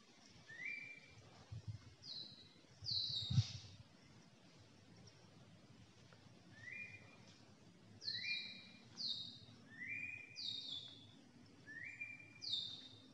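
Swiftlet-like birds swooping around a bird nest during harvest, giving repeated sharp rising chirps and whistled calls, close and fairly loud, in short bursts against a low rumbling background with one brief thump.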